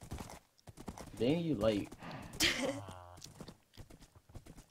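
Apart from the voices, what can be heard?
horse hooves clip-clopping in Minecraft video game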